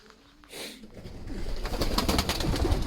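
A pigeon cock in a breeding loft coos softly, a low rolling call that starts faint and swells into steady nearby cooing against quiet background rustle.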